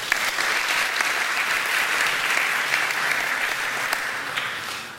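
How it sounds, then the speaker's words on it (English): Loud, dense applause from a conference audience welcoming a speaker at a web accessibility event, continuous clapping close and full from start to finish with no voices over it. "please give him a big applause, Professor Jonathan Hassel."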